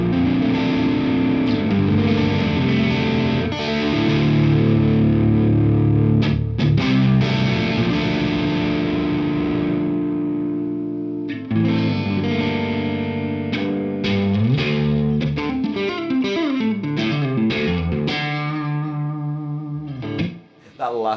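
Electric guitar through a Friedman Twin Sister amp with a Wampler Ethereal reverb in the effects loop, loud and distorted chords and lead lines ringing with a reverb tail, played continuously for about twenty seconds.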